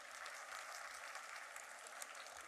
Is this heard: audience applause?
yes